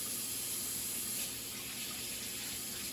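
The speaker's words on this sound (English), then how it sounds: "we're browning up the giblets in the neck" Turkey giblets and neck browning in a hot pan give a steady, close, even sizzle with a bright hissing edge that runs without a break and with no one talking.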